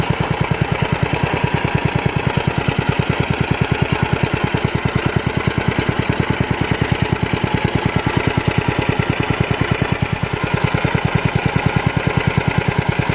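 A repaired Planet Junior Model HT walk-behind tractor engine idles steadily up close, a rapid, even chugging beat that holds without faltering for the whole stretch, no voices over it.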